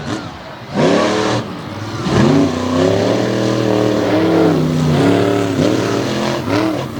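Monster trucks launch from the starting line at a race event in Bangor, Maine, with loud, near engines revving and rising in pitch over several seconds, with no voices.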